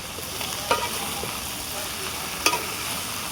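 Beef with spice paste and capsicum cooking in a pan over a wood-fired clay stove, a steady dense sizzle with two brief clinks of a utensil, close and without talk.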